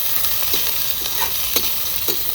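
Vegetables and garlic stir-fried in a hot kadai for homemade chowmein, a steady loud sizzle with a few soft scrapes of the spatula at regular intervals, no voices.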